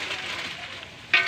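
Pancit noodles sizzle and hiss steadily in a pan over a wood stove in the province, with a brief louder burst of frying near the end as the food is stirred.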